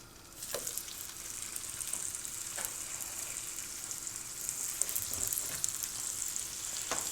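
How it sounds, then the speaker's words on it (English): Pork chops searing in butter and oil in a hot pan, seasoning side down, give a steady, close, even sizzle with a few soft pops and crackles, no voices. "We're going to sear on both sides for about 5 minutes."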